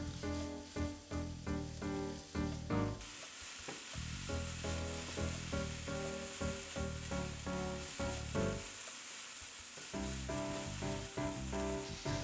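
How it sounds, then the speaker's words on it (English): Onions and bell peppers for Korean japchae sizzling and stir-frying with a pinch of salt in a hot pan, with rhythmic scraping and tossing strokes over a constant crackle. "Start stir-frying all the vegetables separately except for the spinach."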